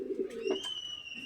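Pigeons in a pigeon loft give soft, low cooing murmurs close by, with a brief rustle and a thin whistling tone running over them, and no one talking.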